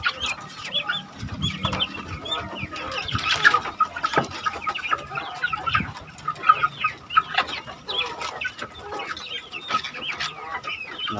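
Free-range village chickens in a backyard coop, many hens clucking and squawking in overlapping calls, close and lively with irregular louder peaks, no voices.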